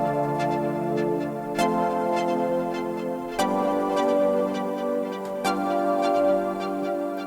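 An analog synth patch with the arpeggiator switched off sounds sustained held chords, each change marked by a sharp attack roughly every two seconds, with faint ticking pulses between them, steady and fairly loud.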